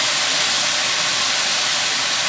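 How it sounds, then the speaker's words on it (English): A stir fry of almond chicken sizzles loudly in a hot wok with cooking wine and oyster sauce, a steady dense hiss filling the whole moment without pause. "You always want the wok to sound sizzling"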